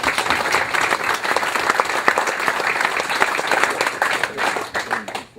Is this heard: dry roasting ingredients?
no